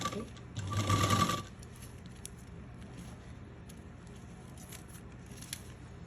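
Sewing machine stitching a T-shirt, running in one brief burst of close motor whir near the start, then faint room noise with scattered small clicks and handling sounds.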